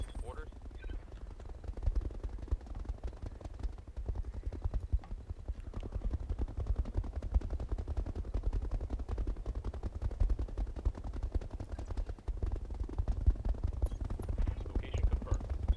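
Mechs in the Roguetech video game firing sustained rapid bursts of gunfire, a dense, continuous rattle of shots with heavy low rumble running throughout, while a voice talks over it at times.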